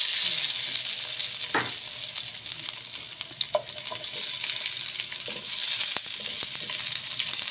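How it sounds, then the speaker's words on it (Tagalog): Garlic, onion, eggplant, squash and long beans sauté in a little oil, a close, steady sizzle with occasional stirring clinks and scrapes. "Idaan din natin sa pagisa sa konting mantika ang ating sangkap."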